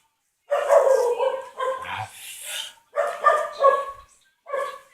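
A street dog barks in loud, close bursts, several clusters of sharp barks with short gaps between them, set off by another dog barking nearby.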